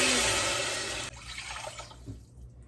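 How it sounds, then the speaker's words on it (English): Three cups of water poured into a cooking pot in a camper kitchen, a steady close splashing rush that cuts off abruptly after about a second, leaving faint dripping and settling sounds. "I'm going to add 3 cups of water."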